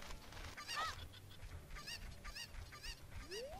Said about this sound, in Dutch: We zijn kip aan het verzamelen, jongens.